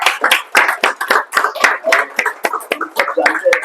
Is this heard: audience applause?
yes